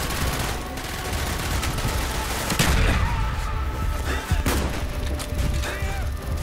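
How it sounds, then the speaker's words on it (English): Mortar fire and battle noise in the video game Call of Duty: Black Ops. Several sharp, loud blasts and bursts of gunfire break up a steady rumble of combat. "Firing mortar!"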